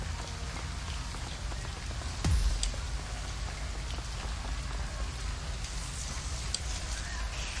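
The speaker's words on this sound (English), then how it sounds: "Yeah, it's raining" Steady rain pours in the Shadowrun: Hong Kong video game, a dense, even hiss of drops hitting surfaces, with one brief low thump partway through and no talking.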